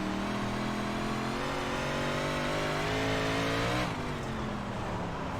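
Race car engine in a racing video game, a loud sustained high-revving drone climbing steadily in pitch, then dropping at a gear change, heard alone.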